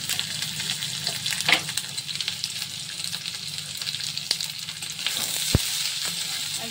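Capsicum and chopped green chilli fry in a wok while chilli paneer is cooked, making a steady close sizzle with occasional sharp clinks and scrapes of stirring and no speech.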